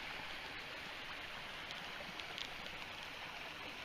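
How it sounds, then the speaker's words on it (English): Steady, faint wash of creek water flowing through hardwood woods near a log crossing, a continuous hiss with no voices. "So we're back to the creek where the log crossed it"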